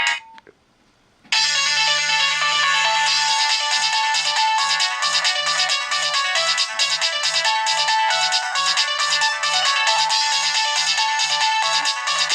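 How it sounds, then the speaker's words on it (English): A phone ringtone plays a bright, brassy melody resembling the Fox News theme tune, loud and continuous after a short quiet start, with a steady low pulse beating under the tune. "this sounds like the Fox News theme tune."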